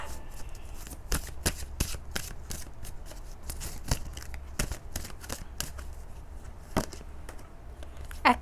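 Romance Angels oracle cards being shuffled by hand, a rapid series of crisp, sharp card snaps and riffles in irregular bursts, close but fairly quiet over a low steady hum.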